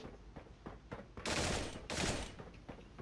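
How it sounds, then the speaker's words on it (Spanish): Rapid bursts of video game gunfire crackle in quick succession, with two louder sustained volleys in the middle and lighter scattered shots around them. "¿Por qué escucho tiros?"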